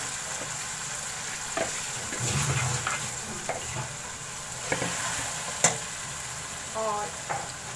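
Cooked chicken tipped into fried masala in a pan, then stirred with a spoon, giving soft scraping and a low sizzle with a few sharper clinks near the end. No one speaks.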